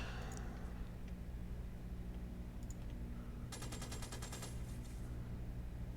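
In the Xenonauts video game, a burst of rapid gunfire rattles out over a low, steady ambient drone lasting a couple of seconds.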